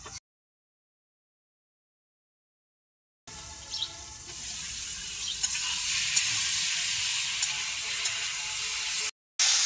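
Vegetables and potatoes sauté in a pan after a few seconds of silence, a dense, even sizzle that holds steady and close before briefly cutting out near the end.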